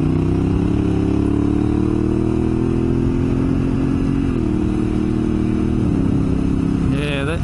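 A Honda Africa Twin DCT motorcycle on the move, its engine holding a steady, loud drone over wind rush, with the pitch dropping and shifting at a couple of gear changes.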